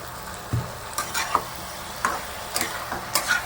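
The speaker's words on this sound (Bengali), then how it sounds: "হলুদ দিয়ে ভালো করে নেড়ে চেড়ে নিলাম।" Mango and okra fry with turmeric in a pan, a continuous soft sizzle punctuated by regular scraping knocks of a spoon stirring the mixture.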